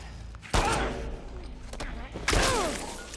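Gunfire in The Last of Us Part II Remastered on PS5: two sharp, loud shots roughly two seconds apart, each followed by a brief ringing tail, with low background game ambience between them.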